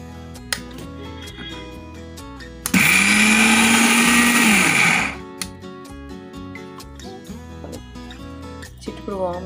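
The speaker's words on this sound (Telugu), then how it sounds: "ఇప్పుడు మిక్సీ పట్టేసుకుందాం." A mixer grinder grinds moong dal in its jar: one loud, steady whirring burst of about two seconds, set between quieter kitchen sounds over soft background music.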